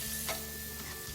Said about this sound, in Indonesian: Masukkan tomatnya dalam tumisan.